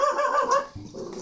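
A dog vocalizes close and fairly loud in a drawn-out, tonal, whine-like call lasting just over a second, with no talk over it.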